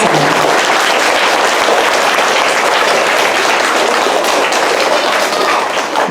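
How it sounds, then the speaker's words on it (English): Third-grade children clapping at a school honor roll ceremony, a loud continuous burst of many small hands, dense and steady throughout with no talking over it. "Clap again."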